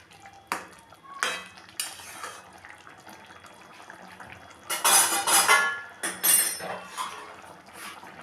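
A spoon scrapes and clinks around a pot of chicken pulao after salt and sugar go in, metallic knocks and bursts of rattling stir strokes, with a brief watery splash and no speech.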